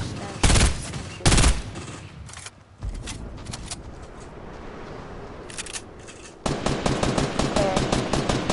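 Video game gunfire crackles in rapid automatic bursts, loud and close, with sharp volleys early on, a quieter stretch in the middle and a dense sustained barrage near the end.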